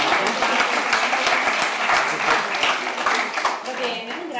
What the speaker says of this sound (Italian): con cui gli facciamo un applauso